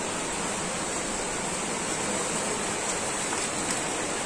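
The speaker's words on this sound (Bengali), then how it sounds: "বাইরে প্রচণ্ড বৃষ্টি পড়ছে" Heavy rain falling outside, a dense, constant hiss of water that stays loud and unchanging from start to finish with no other sounds.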